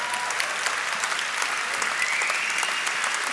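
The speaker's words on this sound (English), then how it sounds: "Let's first of all clap it up for all the youngsters in the room." An audience at a 2018 keynote in Sydney claps steadily, a dense wash of many hands applauding together, loud and sustained throughout without a break.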